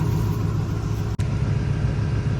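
Continuous low rumbling background noise near a cement factory, like a running engine or heavy machinery. Steady and fairly loud throughout, with one brief sharp click midway.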